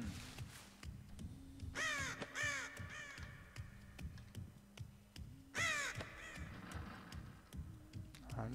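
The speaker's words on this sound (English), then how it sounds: "Crows? I don't like crows, I hate them." Crows caw in the video game Dead by Daylight, several harsh, clear calls in quick bursts around the two- and six-second marks over a low rhythmic game background, with no talk.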